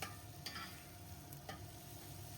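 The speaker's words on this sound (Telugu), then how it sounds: "అలాగే ఉల్లిపాయ ముక్కలు కూడా వేసేస్తున్నాను. ఉల్లిపాయలు ఇంకొంచెం ఫ్రై అవ్వనివ్వాలి." Onion pieces with slit green chillies fry in a pan for vegetable pulao, giving a faint, steady sizzle with a couple of soft stirring scrapes.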